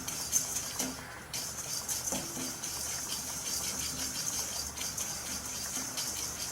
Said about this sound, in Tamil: நம்ம வந்து வெறும் கடாயில் ரோஸ்ட் பண்ணிக்குவோம்